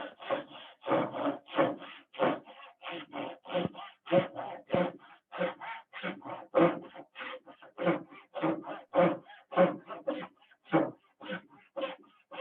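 Hand saw cutting a dovetail joint in wood, steady rhythmic rasping push-pull strokes, about two per second, close and clear with brief pauses between strokes and no talking.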